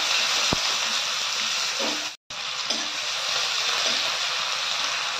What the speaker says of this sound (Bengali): দিয়ে পেঁয়াজটাকে একটু ভেজে নেব।